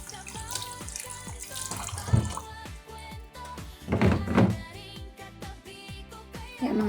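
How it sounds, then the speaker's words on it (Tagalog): Vegetables rinsed under running tap water in a kitchen sink, a steady splashing flow broken by close thunks and clatter of produce being handled, with louder bursts of splashing partway through. "hugasan ko muna po siya ng normal water at tapos babanlawan ko po"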